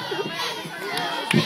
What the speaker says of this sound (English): We got a cheer going on over here.